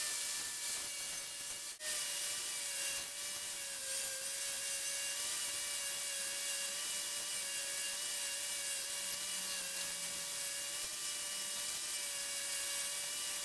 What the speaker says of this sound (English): cut this out, and then I'll just grind it to fit